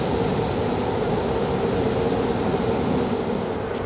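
A CFR IRN 1822 sleeper train travelling between Arad and Bucharest runs on rails with a steady, loud rumble and a thin, sustained wheel squeal that hold throughout.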